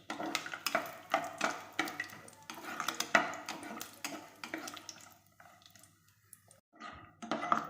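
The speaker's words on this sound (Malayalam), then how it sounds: "നെയ്യിൽ നമുക്ക് കുറച്ച് അണ്ടിപ്പരിപ്പും മുന്തിരി വറുത്തെടുക്കാം" Cashews and raisins frying in ghee make a low sizzle beneath repeated rhythmic scrapes and clinks of a spoon stirring against the pan, which drop to near quiet before a few final stirs.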